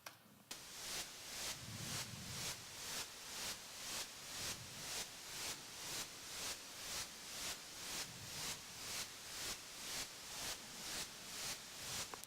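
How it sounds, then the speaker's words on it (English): Synthesized static noise sidechained to a kick drum, a bright steady hiss that ducks sharply on each beat and swells back, pumping in an even rhythm of about two pulses per second. "The kick drum is knocking out that static noise, right, just for a second, and then it's coming, the volume level's coming back up."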